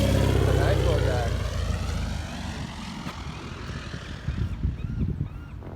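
A small propeller airplane drones loudly nearby, its engine note sliding downward and fading as it moves away, with faint voices and outdoor noise underneath.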